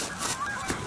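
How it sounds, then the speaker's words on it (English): Loud birds honking outdoors, likely geese, with repeated harsh calls close by against a wide noisy background. "The birds were being loud."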